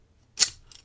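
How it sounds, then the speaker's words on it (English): An improvised lock pick made from car metal works a baton lock, giving one sharp metallic scraping zip followed by a fainter short rasp, close and isolated in quiet. "I'll see if I can use it to zip a lock open."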